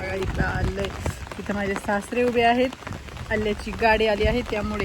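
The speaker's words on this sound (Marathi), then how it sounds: "खूप पाऊस पाऊस चालू आहे" Steady rain patters throughout while someone talks over it, the downpour forming a constant hiss beneath his voice.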